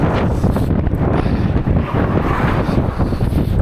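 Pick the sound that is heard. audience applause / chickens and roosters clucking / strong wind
strong wind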